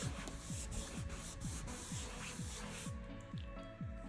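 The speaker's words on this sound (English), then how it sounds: "I'm just going to grab my rag, and in a rubbing motion, let me just show you in this area, just going to buff it" A rag buffs Artisan Premium Chalk Paint on a wall, making a steady, close rubbing swish with quick repeated strokes that run continuously.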